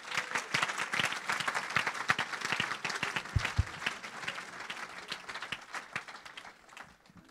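A church congregation applauds and cheers, with dense, sustained clapping from many hands filling the whole stretch and a few voices rising through it.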